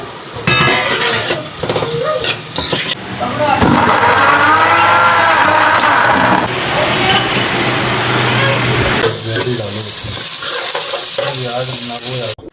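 Okra frying in oil for Hyderabadi bhindi masala, a loud steady sizzle with stirring scrapes running throughout, close and continuous, with a voice talking over it.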